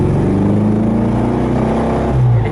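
A Volkswagen Beetle (Fusca) engine pulling under load in second gear from about 20 km/h, heard from inside the car as a loud, steady drone that climbs slowly in pitch.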